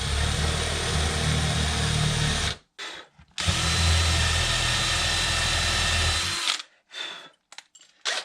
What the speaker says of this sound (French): je vais venir percer à 10 à la taille de mes inserts